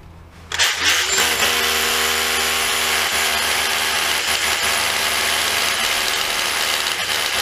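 SDS hammer drill with an 8mm bit starts up abruptly and runs continuously, giving a loud, steady mechanical whir with a rapid rattling hammer action through to the end.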